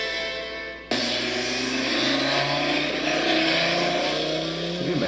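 A Subaru WRX engine with side-pipe exhaust fires up abruptly and revs hard, a loud, close, sustained roar that climbs in pitch with rough crackling edges.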